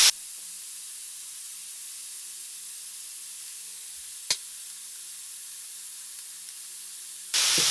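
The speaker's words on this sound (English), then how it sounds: "we're gonna cook the burgers. Keep the pan nice and hot." Burgers sizzle in a hot pan, a steady, bright hiss running throughout at moderate loudness, with one brief click partway through and a louder burst of sizzle at the end.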